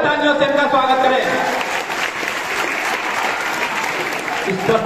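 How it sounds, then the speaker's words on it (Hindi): A large outdoor crowd at a BSF border ceremony with a dog squad display at Nadabet, Gujarat, claps loudly and steadily throughout, a dense sustained roar of applause with no pauses. "जोरदार तालियों से इनका स्वागत करें।"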